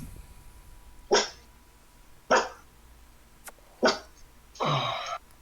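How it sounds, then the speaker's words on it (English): Four sharp barks from a dog, evenly spaced about a second apart, the last one longer and drawn out, with no talking around them. "I hear the barking"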